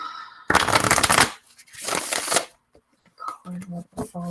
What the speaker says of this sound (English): My wild shuffling